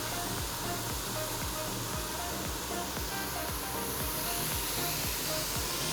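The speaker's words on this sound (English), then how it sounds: "Ooh, I do love the sound of the sizzle." Marinated carne asada meat sizzling in a hot pan, a loud, steady, close hiss with no talking and repeated low thumps underneath.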